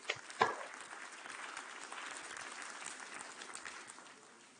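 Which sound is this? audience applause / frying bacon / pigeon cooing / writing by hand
audience applause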